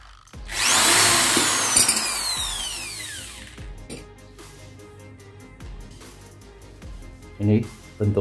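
A power drill bores into a worn bicycle pump handle: a loud, shrill whine surges in early, sweeps downward as the bit bites and fades over a few seconds, followed by quieter handling noises and brief talk near the end.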